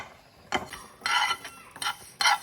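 Panch phoron and black mustard seeds being dry roasted in a pan, stirred with a utensil: several sharp scraping and clinking strokes against the metal, close and distinct, separated by short quiet gaps.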